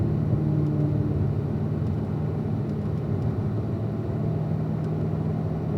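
Car engines drone steadily on a race track, a continuous low rumble with a faint rise and fall but no single pass standing out.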